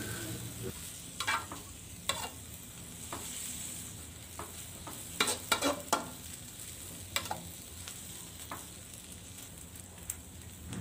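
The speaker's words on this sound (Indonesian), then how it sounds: "Kemudian saya lanjut aduk lagi." Vegetables frying in a pan with a little added water, stirred for fried rice vermicelli: a quiet steady sizzle broken by intermittent scraping and clacking strokes of a spatula, with no talking.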